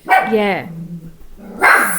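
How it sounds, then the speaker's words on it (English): A guard dog barks indoors at night, two loud close barks separated by a pause filled with low whining or grumbling, the second bark sharper and brighter than the first. "the guard dog is on duty tonight."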